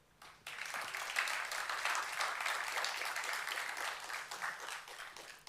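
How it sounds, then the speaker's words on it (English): An audience at the Flutter & Friends conference main stage breaks into applause for a speaker, many hands clapping in a full, sustained burst that starts abruptly after a brief quiet moment. "So give an applause to Darja."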